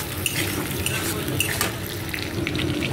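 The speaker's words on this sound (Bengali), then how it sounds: "এবারে দিয়ে দেবো টুকরো করে কেটে রাখা আলুগুলো দিয়ে 2 মিনিট মতন আমি ভেজে নেব।" Potato pieces fry steadily in hot oil in a pan for a fish curry, a close, continuous sizzle with small crackles and no talking.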